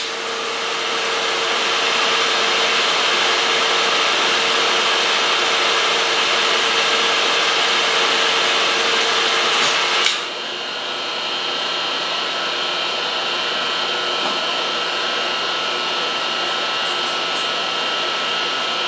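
A machine tool in a workshop cuts along the shoulder of a metal part for a boring bar, giving a loud, steady whine that drops slightly in level partway through and then runs on evenly, with no talking.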